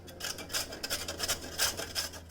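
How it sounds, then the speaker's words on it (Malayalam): Carrots rubbed against a hand grater into a pot of rice, a steady series of rough rasping strokes, close and moderately loud with no talking. "ഈ ക്യാരറ്റ് ഇതിലേക്ക് ഗ്രേറ്റ് ചെയ്തിട്ട് കൊടുക്കാം"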